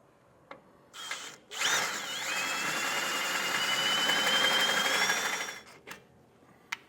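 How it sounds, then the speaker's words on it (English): Power drill enlarging a bolt hole with a 9/16 bit while fitting a Roadmaster base plate, a whirring run of a few seconds framed by short clicks and taps, close and without talk. "we'll just enlarge this hole on both sides"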